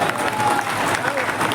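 Audience applause at a Hindi poetry gathering (kavi sammelan): a dense, steady wash of clapping from a crowd, with some voices mixed in throughout.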